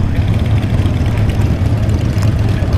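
Harley-Davidson motorcycle engines rumbling steadily at Daytona Bike Week in Daytona Beach, Florida, a loud, continuous low idle of several bikes close by with no talk over it.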